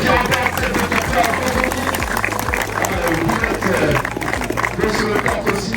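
Crowd applause and cheering for a kart racing endurance team, a steady dense clapping wash that stays loud throughout with voices mixed in.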